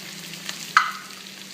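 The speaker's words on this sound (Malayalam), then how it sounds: "അങ്ങനെ നമ്മുടെ സവോള ഫ്രൈ ആയി വന്നിട്ടുണ്ട്." Sliced onions fry in ghee with a little sugar for a Kerala mutton dum biryani, giving a steady close sizzle with one brief louder crackle partway through.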